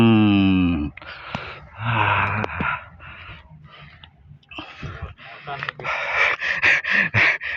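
A man panting hard and out of breath after repeatedly landing fish while fishing at Rawa Pening swamp, with rapid wheezy breaths close to the mic, followed by speech.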